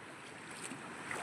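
Soft, steady rushing of water flowing in a stream, quiet and even, with faint splashy flickers near the end.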